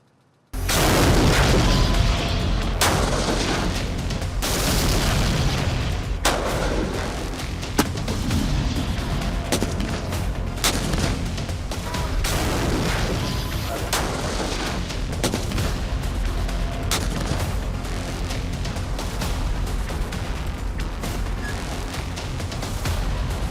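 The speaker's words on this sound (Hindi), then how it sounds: "आप सिर्फ 50 सेकंड में जोरावर टैंक की शक्ति देखिए।" A Zorawar tank fires its gun in a dense, continuous barrage of heavy booms and sharp blasts over a loud, rumbling background that lasts the whole stretch.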